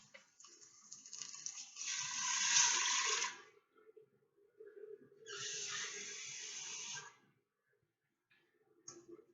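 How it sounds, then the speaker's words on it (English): Water poured into a cooking pot in a home kitchen, two bursts of splashing, rushing flow separated by a short pause, close and fairly quiet with no talking. "We're going to add about an inch of water to the pot."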